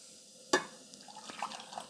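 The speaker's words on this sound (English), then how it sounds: "the craft pours really well" Coffee splashes and trickles into a cup from a Mr. Coffee 12-cup carafe after a sharp clink, a short close pour with light dripping.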